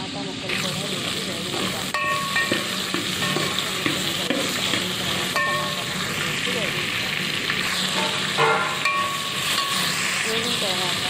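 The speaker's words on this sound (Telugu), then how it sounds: "ఇప్పుడు పచ్చిమిరపకాయ ముక్కలు, ఉల్లిపాయ ముక్కలు వేసిన తర్వాత బెండకాయ ముక్కలు, టమాటా ముక్కలు కూడా వేసి" Okra and tomato pieces frying in a pan with green chilli and onion pieces while cooking moong dal rasam, giving a steady, close, continuous sizzle with stirring scrapes throughout.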